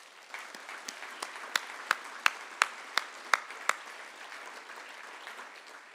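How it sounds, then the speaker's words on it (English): A round of applause for the team owner at a hockey club awards banquet, with scattered, fairly distant claps and a few sharp, louder hand claps standing out in an uneven rhythm. "I would like to give a big round of applause and thanks to our owner"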